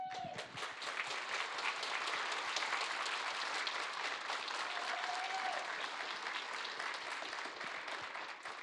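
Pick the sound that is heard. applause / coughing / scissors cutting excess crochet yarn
applause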